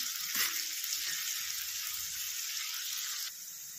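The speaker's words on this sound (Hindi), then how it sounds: "तो ये देखिए, प्याज हल्के हल्के ब्राउन हो रहे हैं।" Onions frying in a pan until brown give off a steady, loud sizzle and hiss, with a brief stirring scrape near the start and no talking.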